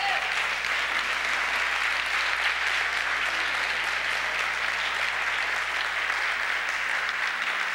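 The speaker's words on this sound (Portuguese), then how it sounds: "Vamos aplaudir Jesus." Sustained applause from a church congregation during a sermon on prophecy, steady and dense from start to finish with no breaks.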